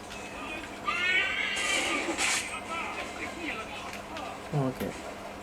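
Horse whinnying in the video game Assassin's Creed 3, a high, wavering neigh rising above steady game ambience, with a shorter snort near the end while someone talks over it.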